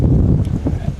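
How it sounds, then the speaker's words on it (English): Strong gusty wind rumbling across a microphone at an outdoor high school softball field, a low, continuous buffeting roar in a brief burst. "it's a very windy day for some softball"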